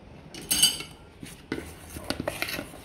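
A spoon clinks and scrapes against a bowl as palm oil is mixed into raw pap for a baby, in a few short, close taps and scrapes.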